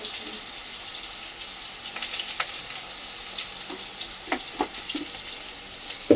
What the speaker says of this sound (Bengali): কচুরমুখির তরকারি রান্না হচ্ছে হ্যাঁ কচুরমুখির তরকারি আর একটু তেজপাতা দিয়ে দেবো